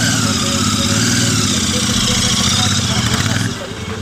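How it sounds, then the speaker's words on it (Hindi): A Royal Enfield Interceptor 650 twin-cylinder motorcycle idles close by with a steady, loud, throbbing engine note that holds for several seconds. Near the end it drops slightly in level. "मैं चला रहा हूँ भाई इंटरसेप्टर 650, तो ऐसे ऑन होता है भाई"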